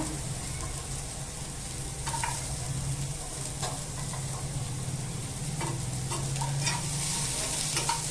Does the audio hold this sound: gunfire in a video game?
no